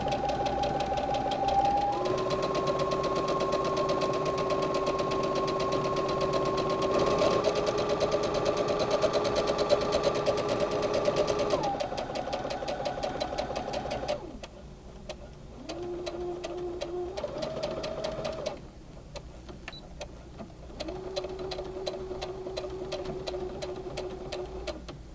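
A sewing machine runs a continuous straight stitch along a homemade superhero cape. Its steady motor whine shifts pitch a few times as the speed changes, and it stays loud and close the whole time.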